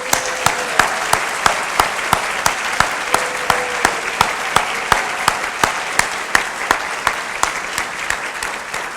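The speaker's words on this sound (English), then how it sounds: "how about a round of applause for all those folks?" An audience applauds for a county's teachers of the year, a dense, continuous wash of clapping with steady rhythmic claps standing out, sustained at an even loudness throughout.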